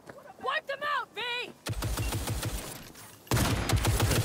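Gunfire in the video game Cyberpunk 2077 crackles in fast bursts under game music and a character's voice, then gets louder and denser toward the end, with rapid repeated shots.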